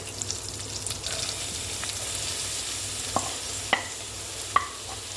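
Chopped onions frying and being stirred in a pan for Andhra-style methi pappu, a steady soft sizzle with a few sharp scraping clicks from the stirring toward the end.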